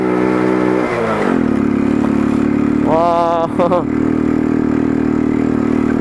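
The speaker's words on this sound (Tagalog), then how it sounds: "Kung narinig nyo sa aking motorsiklo" A motorcycle engine drones steadily and strains under load climbing a steep mountain road, with a short exclamation from a rider partway through.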